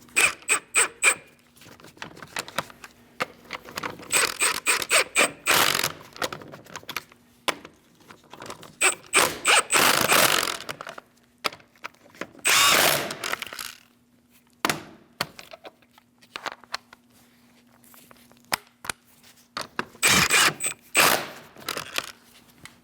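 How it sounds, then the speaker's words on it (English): Ratchet tightening the wheel lug nuts on a 2000-2006 Mini Cooper, nuts done in a crisscross order: several separate bursts of rapid clicking, close and fairly loud, with quiet gaps between them. "Let's tighten these down. We're going to do that in a crisscross manner."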